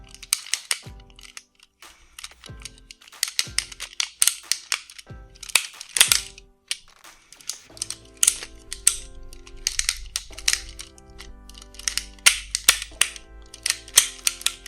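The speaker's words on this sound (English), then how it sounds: "Sorry for the clicking and folding noises" A Bandai Pyramidas Zord toy from Mighty Morphin Power Rangers clicks and ratchets as its plastic parts fold and lock, sharp close snaps arriving in quick irregular bursts with small gaps between them.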